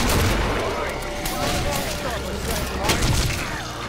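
Weapon fire in Killing Floor, steady loud shooting and booming blasts layered with game effects, continuing throughout with a voice talking over it.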